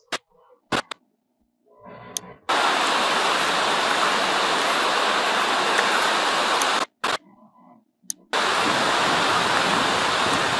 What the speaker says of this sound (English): select reverb, select studio reverb. So click and drag so you can have it on the clips.